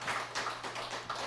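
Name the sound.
audience clapping to welcome a newcomer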